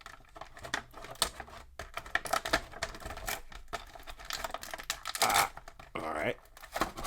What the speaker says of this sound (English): Tape off, tape back on.